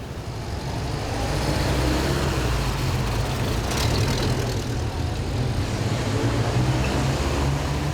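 Military vehicles rolling through town streets in a Victory Day parade, a steady, dense engine rumble and road noise holding at constant loudness, with a brief brighter swell midway.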